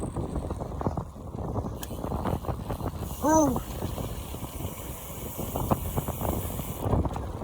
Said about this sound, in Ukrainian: Цей вітер.